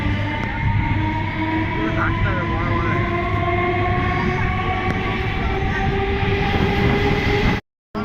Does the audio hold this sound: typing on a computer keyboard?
no